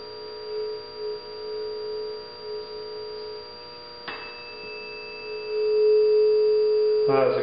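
A pure electronic tone resonates in a pipe closed at one end, a steady sine-like hum that wavers in loudness and then swells louder as resonance builds near the end.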